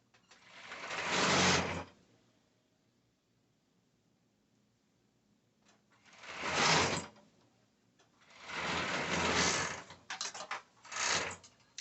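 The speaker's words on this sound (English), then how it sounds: "Then we're gonna sew the sides" A sewing machine stitches the sides of rave shorts in four separate bursts of steady mechanical whirring, with quiet pauses between runs.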